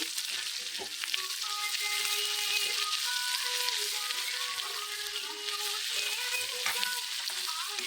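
Curry with bitter gourd frying and being stirred in a pan, a dense, continuous, close sizzle with occasional faint utensil clinks.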